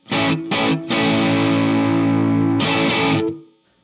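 Electric guitar runs through a Benson Germanium Boost pedal into a Strymon Iridium amp modeler, loud and distorted, with a few chopped chords and then a long sustained one before fading out.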